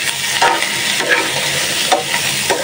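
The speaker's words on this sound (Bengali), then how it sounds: "একটু ভাজা ভাজা করবো, তারপর নামাবো।" Beef trotters for nihari fry in a pan with a loud, continuous sizzle, broken by several spatula scrapes and stirs at close range, with no voices.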